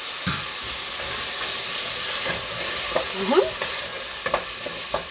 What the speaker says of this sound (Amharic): ካሮት ሽንኩርት ምንቻችን በደንብ ጥብስ ብሏል።